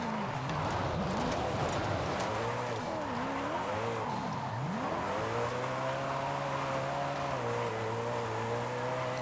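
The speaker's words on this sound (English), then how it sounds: "And then you just go on a straight line with it, and it just accelerates." A car accelerates hard along a straight with a loud close engine note that rises and dips through the gear changes before settling into a steady high drone, with no talk.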